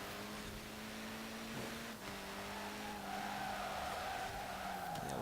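A car in Forza Horizon 4 slides across tarmac with its tires skidding over a steady engine drone. The loud, continuous screech swells into a rising squeal near the end.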